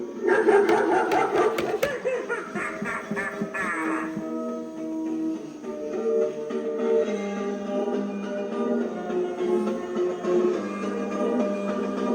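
Animatronic clown toy holding a balloon dog gives off an electronic dog-barking sound, a run of quick yaps at the start, then a steady tonal, musical electronic sound that continues to the end.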